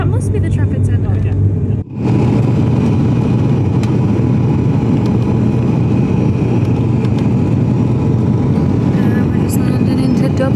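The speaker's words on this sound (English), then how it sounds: "We're just landing into Dublin now." Cabin noise aboard an airliner landing at Dublin on a Manchester to Dublin flight: a loud, steady broadband roar and rumble throughout, with a brief dip near the start, then constant engine and airflow noise.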